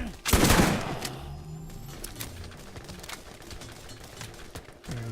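A short, loud burst of SMG fire in Borderlands is followed by a scattered wash of distant game combat noise, with another sharp hit at the end.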